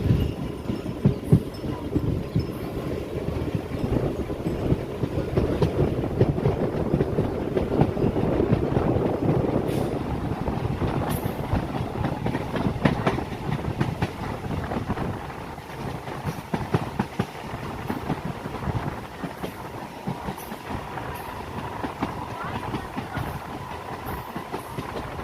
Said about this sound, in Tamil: அண்ட் இந்த லோக்கல் மெமோ ட்ரெயின் வந்து ஹால்ட் ஆகும்